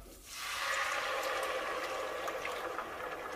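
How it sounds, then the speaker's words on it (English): Tomato puree poured into a pan for homemade chicken parmesan sauce, giving a steady, close, wet pouring and sloshing sound that continues for a few seconds with no one talking. "I'm just going to remove it for now so I can pour in the puree."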